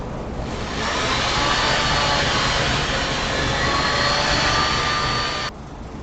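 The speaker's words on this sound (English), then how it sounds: "I'm going to sand this up. I'm going to sand it inside and out." A power sander works over a drilled wooden piece inside and out, a loud steady whooshing whir that holds for several seconds before cutting off, with no talk.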